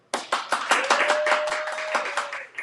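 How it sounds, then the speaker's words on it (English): An audience claps at a community gathering: a burst of applause from a small crowd, fairly close and steady, with a few louder individual claps and a faint sustained tone running underneath. "You can clap."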